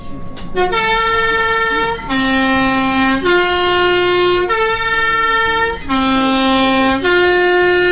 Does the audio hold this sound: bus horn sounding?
yes